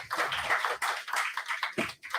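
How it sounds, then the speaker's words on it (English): Applause from an audience at a university tourism department event, a steady dense patter of many hands clapping with brief dips, fairly close and loud throughout, with no talking. "So a big round of applause for all of them, please."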